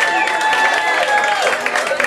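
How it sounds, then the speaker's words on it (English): A pub comedy crowd gives a round of applause, steady dense clapping mixed with crowd noise and voices that carry on throughout at fairly close, loud level. "1, 2, 3, round of applause for my mother."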